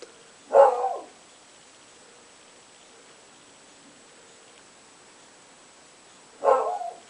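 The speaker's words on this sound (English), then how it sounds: "Sorry about my dog." A pet dog gives two short, separate barks indoors, the first near the start and the second several seconds later, each fairly close and clear against an otherwise quiet room.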